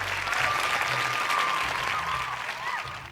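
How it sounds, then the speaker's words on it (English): Applause from an audience of schoolchildren and guests at a primary schools quiz competition, even steady clapping at moderate distance with a thin whistling tone and low murmur underneath. "Shall we clap for them?"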